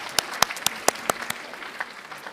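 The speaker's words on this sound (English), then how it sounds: "everyone's already joining me in applauding your amazing talent" Applause at an art school open house for admitted students, heard as a handful of sharp, separate claps close by, spaced irregularly and fading out after about two seconds.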